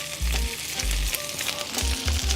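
Burger patties for a double cheeseburger frying in a pan on medium-high heat, a loud close sizzle broken by a few low thuds and scrapes as they are pressed and moved.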